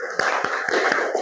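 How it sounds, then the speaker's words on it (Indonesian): A class of fifth-grade children clap their hands together in a classroom, about five brisk, fairly even bursts of claps in quick succession, close and moderately loud over a faint murmur of voices. "Ya, tepuk tangan dulu."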